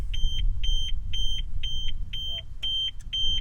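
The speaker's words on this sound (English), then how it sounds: "Oh, the alarms ain't off," A car alarm beeping in a steady, rapid repeating pattern, loud and close, with a brief mechanical whir near the end.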